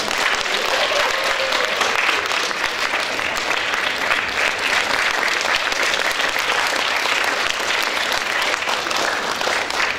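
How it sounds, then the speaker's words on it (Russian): A concert hall audience in Belarus gives a long, even round of applause as a singer is introduced. The clapping is thick and loud and holds steady throughout without letting up. "Ваши аплодисменты."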